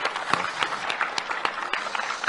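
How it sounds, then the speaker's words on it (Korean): Applause from the audience at a public city-hall forum with the mayor, a short burst of scattered, distinct hand claps over a crowd murmur, fairly close and moderately loud. "우리 고맙다고 또 축하하는 뜻에서 박수 한번 보내주시면 감사합니다."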